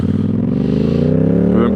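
A 2025 Yamaha MT-07 motorcycle engine running under load as it shifts gear with a quickshifter and no clutch, a loud steady droning hum with a brief change near the end, heard up close alone.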